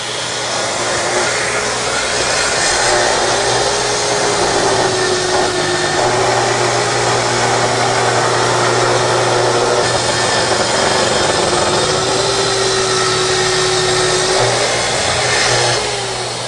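A Festool plunge saw with a combination blade cutting through a workpiece, a loud continuous whining roar with a steady tone that wavers slightly as the cut progresses, without pauses throughout.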